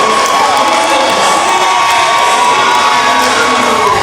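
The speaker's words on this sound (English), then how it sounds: "You can hear the crowd." A basketball crowd in a gym roars and cheers after game-winning free throws in a Calhoun vs. Shelton State game, a loud continuous swell of shouts, whoops and high voices.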